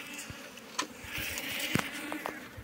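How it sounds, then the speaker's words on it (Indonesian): Wild Asian honeybees (Apis cerana) fly close by outdoors, giving a continuous buzzing hum with passing swells as individual bees zip near, plus faint clicks and rustles. "Ini lebah cerana ini, guys. Ini lebah cerana. Dia terbang mencari makan ya."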